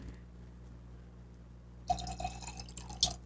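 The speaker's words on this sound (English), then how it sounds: "So should we pour some?" Rosé wine from Provence being poured into a glass, a close, gentle trickling and splashing that begins partway through after a quiet lead-in, with a brief brighter clink near the end.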